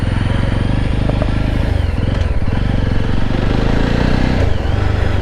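A Jawa 42 or Royal Enfield Classic 350 motorcycle ridden through city streets, its engine thumping loudly and steadily nearby with rhythmic exhaust pulses and slight revving shifts throughout.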